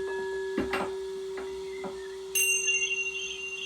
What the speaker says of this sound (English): The musical sound of magical chimes resonate throughout the galaxy.